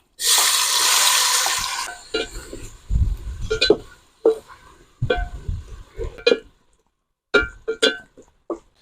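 Crushed onions and curry leaves hit hot oil with fenugreek for a Vanjaram fish curry, a loud, hissing sizzle bursting up near, then dropping away as someone talks over quieter frying.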